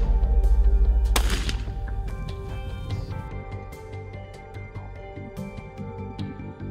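A single loud rifle shot fired at a Cape buffalo during a hunt cracks sharply near the start and rolls off into a long echoing decay, over a dense music-like background.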